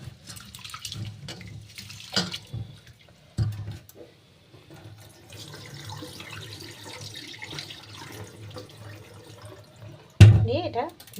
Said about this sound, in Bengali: এবারে খুব ভালো করে ধুয়ে নেব, 3 থেকে 4 বার ভালো করে ধুয়ে নেব।